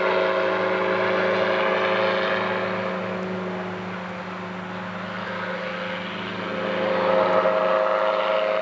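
Powered parachute aircraft droning steadily overhead after takeoff, a continuous propeller engine hum with strong tonal harmonics that dips slightly midway and swells louder again near the end.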